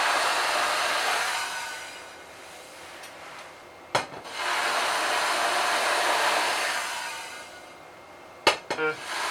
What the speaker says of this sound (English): it's making that noise because the bowl is still slightly damp when I put it on